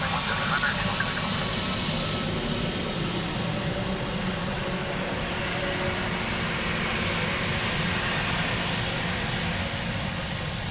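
A Ryanair jet airliner on the runway at Dublin Airport gives a steady, sustained engine roar for its full length, with a broad whooshing rumble under faint radio voices.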